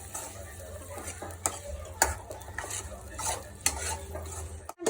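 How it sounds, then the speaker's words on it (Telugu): Fried rice with soy sauce being stirred in a pan for egg chicken street-style fried rice, with repeated scraping clinks of a utensil over a steady background hum and faint sizzle. "వేసుకుందాం సోయా సాస్. దీన్ని మనం మిక్స్ చేసుకుందాం."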